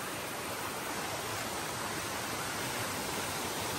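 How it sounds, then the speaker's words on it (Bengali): Steady broadband rush of the first, smaller waterfall on the Khaiyachhara trail, a continuous close hiss of falling water with no let-up and no voices. "এই যে এইটা হচ্ছে ফার্স্ট ঝর্ণা।"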